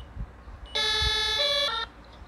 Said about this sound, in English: So, for the ambulance and the firefighters, the sirens of every car is this.